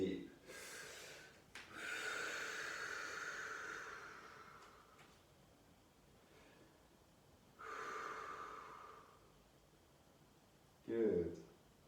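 Slow, deep breaths during child's pose in a morning spine workout session, several long audible inhales and exhales spaced apart, close and soft, ending in a sharper snort-like breath.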